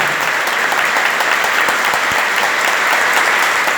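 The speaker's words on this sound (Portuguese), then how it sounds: "Se você crê nisso, pode aplaudir com força" A Catholic congregation claps hard and continuously, a loud, uniform wash of many hands sounding close and steady throughout, with no pause.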